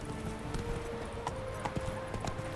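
A horse's hooves clip-clop at a riding pace in The Witcher 3, a regular run of soft thuds over faint game ambience and a low steady tone, no speech.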